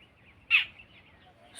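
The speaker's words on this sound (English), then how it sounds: "the sound of birds" A single short bird call, crow-like and moderately near, rises briefly above a quiet, still wild background.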